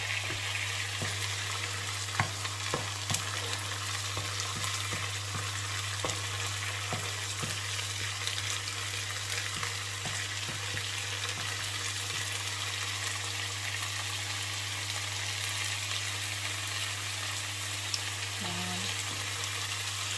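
Mangetout sizzles in a covered pan, giving a steady, close frying hiss with a low continuous hum beneath and scattered small crackles, with no talk.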